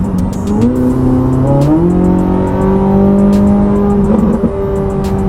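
Corvette C8 Z06 engine revving loudly, pitch climbing through the gears, with a sustained throaty roar and a few sharp pops.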